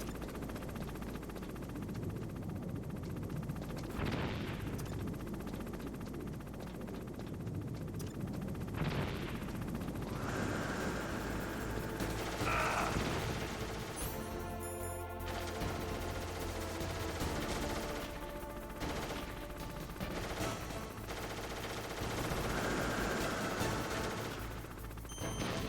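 Repeated explosions and gunfire-like bursts from the Metal Gear Solid video game sound in a game mix at moderate level, several blasts spaced across the stretch with a busy rumble between them.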